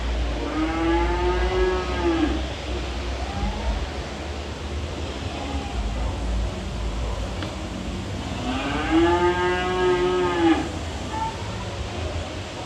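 Cattle mooing at the Denbigh Agricultural Expo, two long, loud lowing calls spaced several seconds apart over steady outdoor crowd and wind noise.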